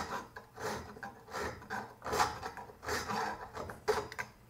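A hand file rasps bronze off shifter bushing screws from a 1965-69 Chevy shifter support, repeated short scraping strokes in an uneven rhythm, close and fairly quiet with no talk.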